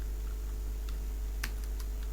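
Light typing on a computer keyboard while entering text in PowerPoint, scattered soft key clicks at uneven intervals over a constant low electrical hum, with no talk.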